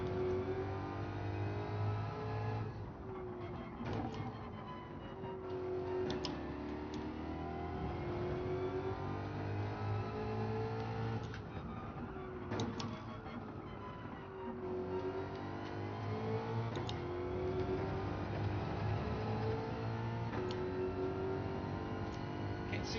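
In Gran Turismo 7, a race car engine revs hard through repeated gear changes, its pitch climbing and dropping in steady cycles, loud and continuous throughout.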